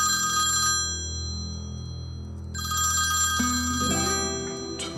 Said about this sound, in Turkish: Eniştemin telefonu çalıyor.